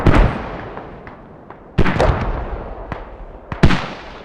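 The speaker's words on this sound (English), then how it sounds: "Mortars up for MTE." Mortar fire in the video game Squad on the Kohat map, three loud booming blasts spaced about two seconds apart, each ringing out into a long fading rumble.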